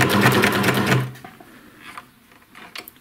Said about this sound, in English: take a couple more stitches